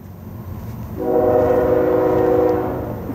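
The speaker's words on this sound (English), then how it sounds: "Oh, it's a mixed train!" A CSX mixed freight train rolls by with a loud, sustained horn blast lasting a couple of seconds over a steady low rumble of wheels and railcars.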